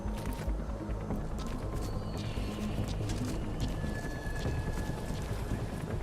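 A horse gallops in Metal Gear Solid V, rapid clip-clop hoofbeats drumming steadily under loud game ambience, with a brief whinny-like tone.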